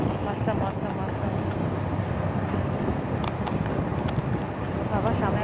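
Cold wind roars steadily on a road trip from Kolkata toward Debra via Kolaghat, a dense, continuous rush of wind noise that stays close and loud throughout.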